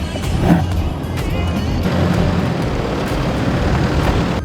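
A four-wheel drive vehicle revving and accelerating on an off-road track near Coffin Bay, South Australia, a loud, close, sustained engine roar with rumbling and rattling over rough ground, no talk heard.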